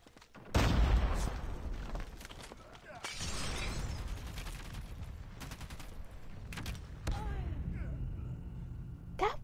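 Gunfire in the mobile shooter Call of Duty Mobile during a hardpoint match, a loud burst of shots followed by rattling weapon fire, clatter and mechanical clicks, with some voice underneath.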